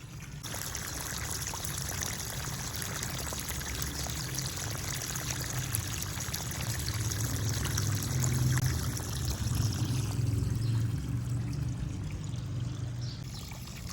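Water flowing steadily while a garden is watered, a continuous close pouring and trickling rush that holds for the full stretch, slightly fuller toward the end.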